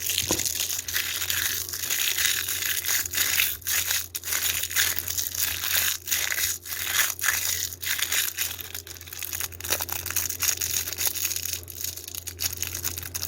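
Plastic bag crinkled and crushed while making slime with colored liquid glue, a continuous close crackling and rustling with sharp crunchy bursts, no talking.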